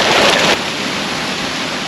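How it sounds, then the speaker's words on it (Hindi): A small waterfall at Mossy Falls in Mussoorie, running low on water, gives a steady broadband rush close by, a touch louder in the first half second and then an even, continuous hiss. "एक छोटा सा झरना मुझे दिख रहा है यहाँ पे"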